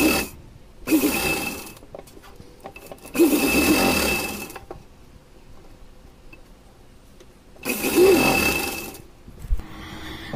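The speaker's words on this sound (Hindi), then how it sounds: "अब बिठाने के बाद तीनों साइड सिलाई लगा लेंगे" A sewing machine stitching the seams of a small costume dress, a Radha-style outfit for a Krishna idol: three close bursts of rapid, even mechanical whirring, separated by quiet pauses.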